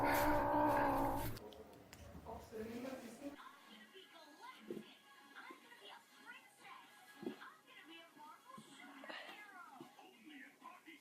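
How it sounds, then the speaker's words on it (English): A cat growls in a low, loud rumbling snarl for the first second or so, then the growl gives way to quieter voices and scattered background sounds. "Ever seen a cat growl?"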